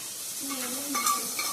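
Onions frying for fish curry are stirred steadily in a pan, a soft continuous sizzle with scraping strokes, close and moderately loud, no voices.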